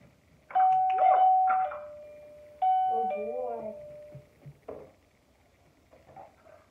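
A dog rings a bell, producing two clear chimes a couple of seconds apart, while a person speaks nearby between the rings.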